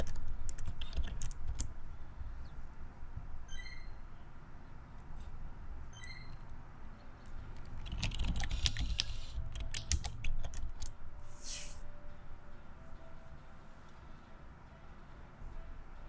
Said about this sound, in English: Sorry, just typing some stuff.